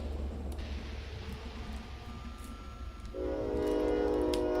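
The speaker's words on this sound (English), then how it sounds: "Hello, actual train." A passing train in the game Psychopomp GoldClip, a steady rumble that swells after about three seconds with a sustained horn-like tonal drone over the noise.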